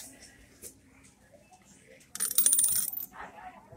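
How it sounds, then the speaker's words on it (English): A Coinstar coin counting machine at a Walmart, with a few faint clinks followed by a loud burst of coins rattling and clattering through it for about a second. "the Coinstar has some coins in here."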